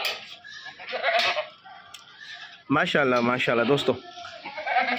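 Goats bleat loudly at a goat farm selling castrated and pink-breed goats, several harmonic calls bunched near the middle with more bleats later, while someone speaks over them.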